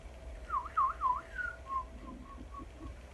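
A person whistles a string of swooping notes in imitation of a weasel, three quick rising-falling calls followed by softer, shorter tones, close and quiet with no talk.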